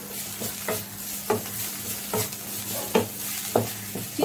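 Radish greens fry in a pan while a utensil stirs and scrapes in a loose rhythm of about eight knocks over a soft sizzle, no voices.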